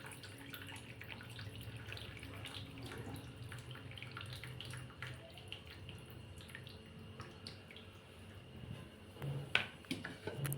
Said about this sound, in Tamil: நல்லா அலாசிக்கோங்க குளுந்தண்ணி ஊற்றி.